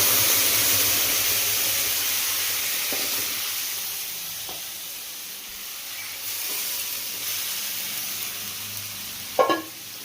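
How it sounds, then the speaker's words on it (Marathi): Ground masala paste with chili powder and turmeric fries in hot oil for a mushroom curry. It gives a steady, soft sizzle with occasional stirring scrapes and a sharp clink near the end. "ह्याच्यामध्ये आपल्याला हे वाटण तळून घ्यायचं आहे सगळं"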